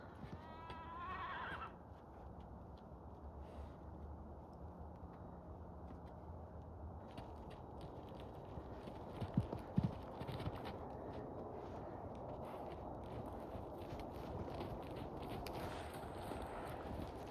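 An Arabian horse trots loosely around a paddock, its hooves thudding in a steady rhythm over wind and outdoor rumble, with a brief whinny at the very start and a few louder hoof strikes midway.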